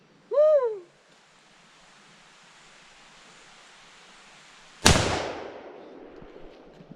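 A single sharp AR-15 rifle shot cracks loud and close, its report decaying over a couple of seconds, after a brief rising hoot-like tone and steady low background noise.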